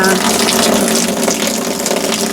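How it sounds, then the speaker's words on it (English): Hot water runs steadily from an RV faucet during winterization, a continuous broadband rush that stays loud and unbroken throughout. "Hot water."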